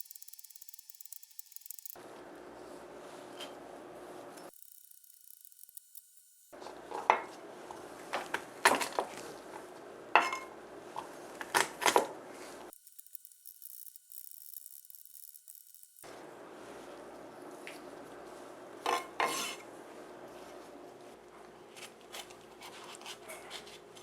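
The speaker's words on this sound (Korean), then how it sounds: "파를 다져 줄 거예요." A knife chops green onions on a cutting board for braised fish cakes, giving sparse, sharp knocks and clicks in short bursts, separated by quieter stretches and abrupt silent gaps.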